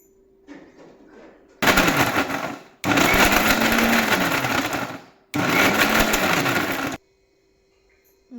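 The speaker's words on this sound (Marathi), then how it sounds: "मिक्सरच्या भांड्यामध्ये चपात्या बारीक तुकडं करून टाकायचं आणि मिक्सरचं फिरवून घ्यायचं" An electric kitchen mixer grinder whirs loudly in three separate bursts as it grinds torn chapati pieces with jaggery in its jar, each run cut off by a short pause and quiet moments before and after.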